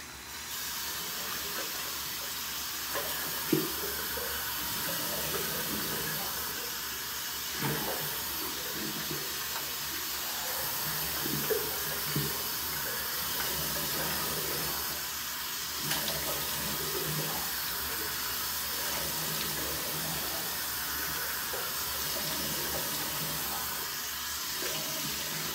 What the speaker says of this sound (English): Gonna go ahead and splash some hot water on my face.